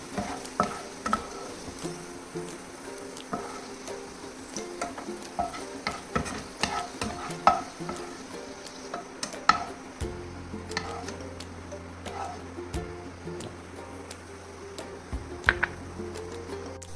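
Chicken pieces for a kantari chicken biryani fry in hot oil, a steady crackling sizzle broken by frequent scraping clicks of a stirring spoon against the pan, close and continuous throughout.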